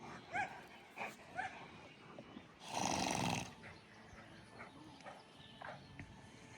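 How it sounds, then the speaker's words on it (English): A dog, apparently one not heard before, gives a few short barks and whimpers at close range, then a louder burst of noise around midway, with faint background sounds and no speech. "That's a new sounding dog."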